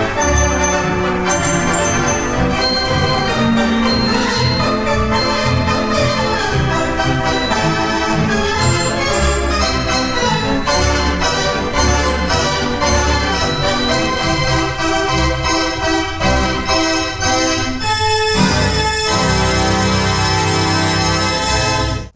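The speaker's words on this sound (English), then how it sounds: "I'm hooked on the sound of this organ and any other Wurlitzer." Wurlitzer theatre organ playing a full, sustained passage with rich layered tones and steady loudness throughout, no voices present.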